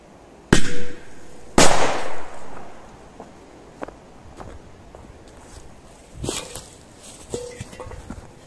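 Two sharp bangs about a second apart from a two-bang Korsar firecracker, the second louder with a crackling tail, followed by quieter scattered pops and outdoor ambience.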